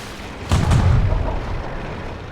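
A World of Tanks tank cannon fires at an artillery piece: one loud, deep boom with a heavy low rumble that decays slowly, and no talking.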